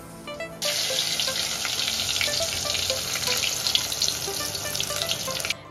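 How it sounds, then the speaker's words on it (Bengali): Rohu fish frying in a pan, a bright, dense hiss that starts abruptly and holds steady for several seconds with scattered pops and small clinks, then cuts off. "তাই রুই মাছের ভাজা করব"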